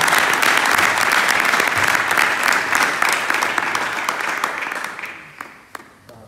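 A church congregation at a Sunday service breaks into loud, sustained applause that gradually thins out, leaving a few scattered claps at the end.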